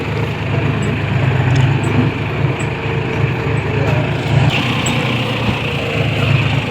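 A John Deere tractor engine drones steadily and loudly at close range, holding an even working pitch with no talk over it.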